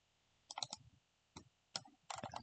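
Crisp computer mouse clicks arrive in short clustered bursts, a few quick taps at a time with brief quiet gaps between, close-up and fairly faint, with no talking.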